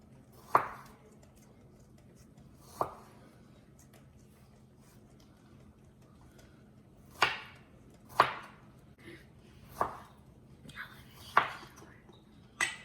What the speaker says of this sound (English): so we need strawberries. We're going to slice them.